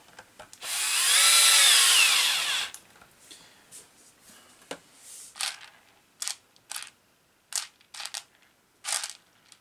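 A small power tool driving the last screws into the cage of an RC cross car, with one sustained whir of about two seconds, then a string of short bursts and clicks, close-up and without talk.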